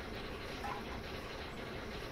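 A train runs on rails in a train simulator game on the East Coast Main Line, giving a steady, quiet, continuous rumble with faint rolling rail noise and no distinct clicks.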